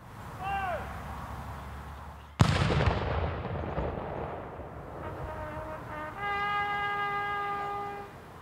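A single loud gun salute volley cracks out at a veterans' historical marker unveiling ceremony in Stephentown, New York, its boom rolling and echoing outdoors, followed by a sustained tonal horn-like note.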